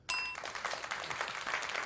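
A bright bell ding rings out once, clicked during a live morning stream show, its tone ringing briefly before fading into a faint murmur of background noise.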